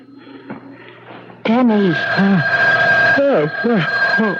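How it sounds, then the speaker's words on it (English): An electronic phone ring warbles in repeated bursts, loud and close, after a brief quieter stretch with faint voice-like sounds. "The phone, it's ringing."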